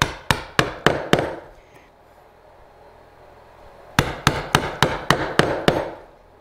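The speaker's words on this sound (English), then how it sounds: "You're pounding straight down, so it's not pushing the board left or right." Mallet blows drive a chisel straight down into a wooden board during drawer making: a quick burst of five sharp knocks, a quiet pause of about three seconds, then a second run of nine steady strikes, all close and loud.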